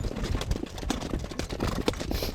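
Racehorse hooves pound a dirt training track in a steady galloping rhythm, close and continuous, with wind noise and faint movement around them and no clear talk.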